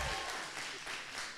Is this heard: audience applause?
yes